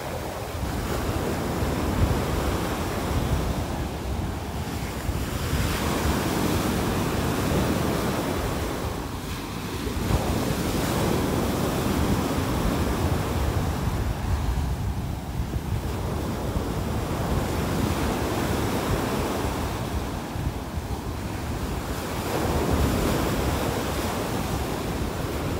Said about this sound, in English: These waves are really pounding here.